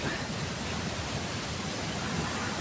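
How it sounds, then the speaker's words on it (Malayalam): A small roadside waterfall pours with a dense, even, unbroken rush of water, steady and fairly close for the whole stretch. "വരുന്ന വഴിക്കുള്ളൊരു ചെറിയൊരു വെള്ളച്ചാട്ടം കണ്ടപ്പോൾ"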